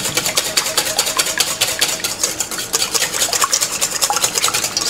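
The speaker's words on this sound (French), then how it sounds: "nous allons mélanger ça au fouet tout simplement" A whisk beats leek pudding custard mixture in a bowl during a cooking class, a fast, steady run of light metallic clicks and scrapes, close and continuous with no talking.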